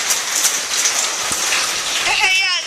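Wind-driven rain from Tropical Storm Cindy pours down in a steady, loud, dense hiss, with gusts pushing the rain toward the listener close by and a voice briefly audible near the end.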